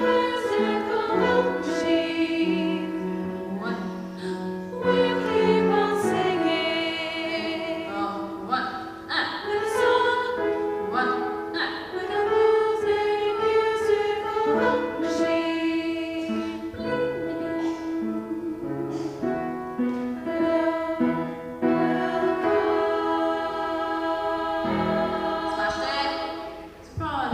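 A choir rehearsing a new composition from memory, with voices singing continuous layered harmonic lines at moderate volume for the whole stretch, and no talking.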